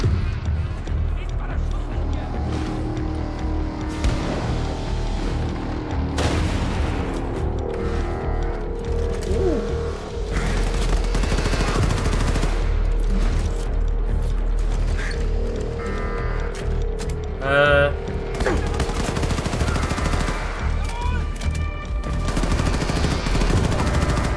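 Rapid bursts of automatic gunfire from a weapon in the video game Wolfenstein II: The New Colossus, loud and sustained over a steady game soundscape with occasional explosions.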